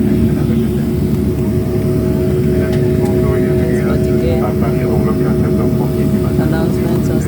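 A jet airliner rolls along the runway just after landing in Paris, a loud steady roar of engines and cabin rumble heard from inside, with some talk in the cabin beneath it.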